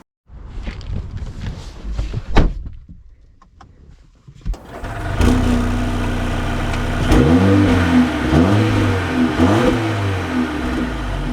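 A 2025 Mercedes GLA 250 pulling away: after a few quiet cabin clicks and shuffles, the engine rises into a steady drive with repeated revving swells as it accelerates through gears, heard from inside.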